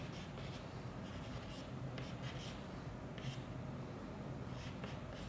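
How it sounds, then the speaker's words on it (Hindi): Soft scratchy strokes of writing on a board during a physics lesson, faint repeated scrapes over a steady background hiss, with no talk. "देखिए मैं पहले नाम ही लिखता हूँ उसका"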